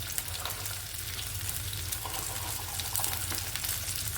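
Whole garlic cloves, five or six of them, frying in hot oil in a pan for a Bengali kudri makhani bata, giving a steady, close sizzle with faint crackles and no talk.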